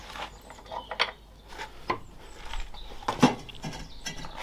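A multipurpose bench vise presses a bushing out of a Renault 4L suspension arm, giving scattered creaks, metallic ticks and grinding clicks at irregular intervals, close but fairly quiet, with no speech.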